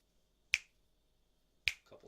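Two sharp finger snaps about a second apart, crisp and close in a quiet room, faint room tone between them.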